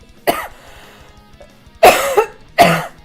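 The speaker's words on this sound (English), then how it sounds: "Sorry about my coughing, you guys." Three harsh coughs from one nearby person, the first short and alone, followed by a longer two-part cough and a final single cough, loud and close with no talk.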